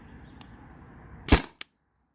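A Byrna TCR CO2 launcher fires a single shot, a sharp close pop with a brief hiss, followed by a small click, after a low background hum.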